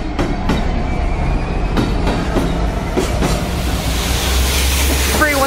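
Two Class 66 locomotives, 66716 and 66720 in rainbow livery, hauling an RHTT water cannon train at Barnham, with loud close rhythmic clickety-clack of wheels over rail joints and a brief squeal near the end.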